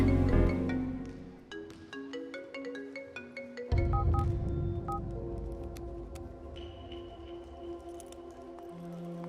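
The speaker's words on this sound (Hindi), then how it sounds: "फोन करता हूँ तो उठाती क्यों नहीं?" A phone rings repeatedly and goes unanswered, with a bright electronic ringtone melody playing in a clear rhythmic pattern against a soft background, loud and close with no speech.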